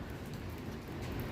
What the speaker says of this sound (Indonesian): Mobil seperti dicuci karena hujan.